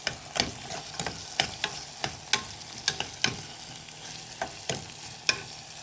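Eggs with tomatoes and onion cook as shakshuka in a pan, a soft sizzle under a steady rhythm of sharp spoon-scraping stirs, each stroke clicking clearly and close by.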